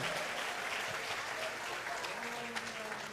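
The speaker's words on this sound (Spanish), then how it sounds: "Dele palmas al Señor con gozo y alegría." A congregation claps hands together during a lively evangelical church anniversary service, dense sustained applause from a crowd throughout, steady and fairly loud.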